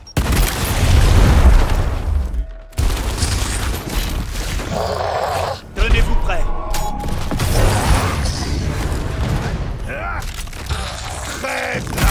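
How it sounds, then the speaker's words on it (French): A grenade in the video game Gears Tactics detonates in heavy booming blasts and cracking debris, loud and close, amid dense battle noise that continues for several seconds; voices are heard in the game. "Grenade"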